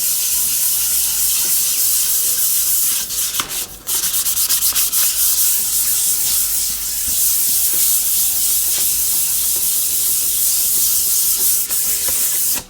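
Continuous close, fairly loud hand sanding with fine 2500-grit sandpaper, a steady hissing rub with brief pauses and strokes.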